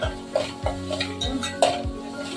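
Crab curry being stirred in a cooking pot for a Konkan-style crab rassa, a spoon scraping and knocking against the metal pot in several quick strokes over a soft simmering sizzle, close by with no speech.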